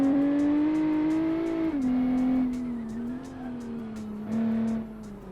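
A stock car engine in a video game launching from a standing start, revving loud and close with a strong rising tone, several quick gear-change dips, and a faint tyre squeal, with no voices.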